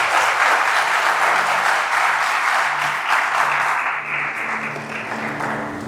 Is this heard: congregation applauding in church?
yes